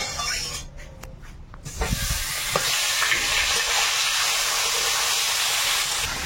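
Fresh river gagra fish hit hot oil in a pan, a sharp burst of sizzling settling into a loud, steady frying hiss.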